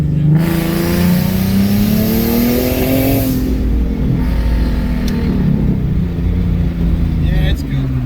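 A Ford Mustang S197 V6 fitted with a rear-mount turbo kit and 3.73 gears revs up loudly nearby, the engine pitch climbing and falling in a long sweep, with people talking over it.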